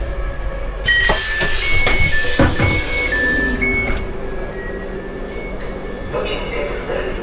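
An IC Pomorzanin Intercity express train runs between Warsaw stations, its rolling rumble heard from on board with a short series of tonal beeps and a voice over the noise.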